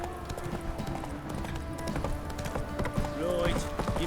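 Hooves clip-clop in a quick, steady rhythm as Geralt's horse Roach gallops in The Witcher 3, with game music and voices over the top.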